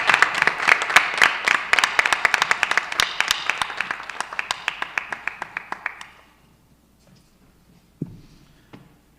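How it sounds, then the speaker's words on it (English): A board of education meeting room gives a round of applause, crisp individual claps from a modest crowd that gradually thin out and stop after about six seconds, followed by a quiet bump and a brief voice. "And another round of applause for Mrs."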